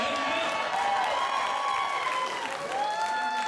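An audience breaks into applause with some cheering at a comedy storytelling show, a continuous crowd clapping heard beneath a talking voice throughout.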